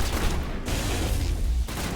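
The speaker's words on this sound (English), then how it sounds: "The guards will shoot to kill now." Dense gunfire from guards in the video game Mass Effect, a loud, continuous barrage of overlapping shots with heavy low booms and brief dips, close and unbroken throughout.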